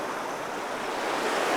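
Fast-flowing creek water rushing steadily outdoors, a dense broadband wash that holds constant and swells slightly toward the end, with no voices over it.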